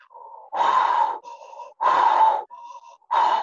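Rapid, forceful open-mouth breaths from a Kundalini yoga practice come in a repeating pattern, with loud breathy bursts alternating with softer sustained tones, close up and without speech.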